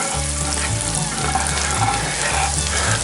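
Butter sizzling in hot bacon fat inside a Dutch oven while rabbit is smother-fried, a steady dense crackle and hiss that holds loud and close for about three seconds with no talking.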